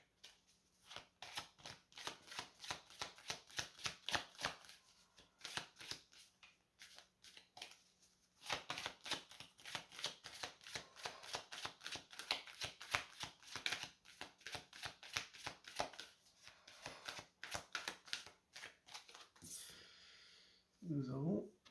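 Oracle card decks being shuffled by hand, a quiet, rapid riffling and flicking of cards in bursts, close and soft, with a short voiced sound near the end.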